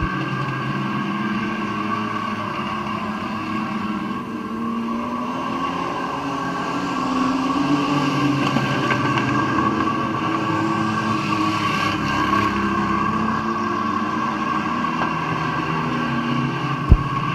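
Race cars at Midvale Speedway roaring around the track, a sustained droning engine noise with shifting pitch that swells slightly midway, heard from a distance under wind buffeting, with a brief sharp knock at the end.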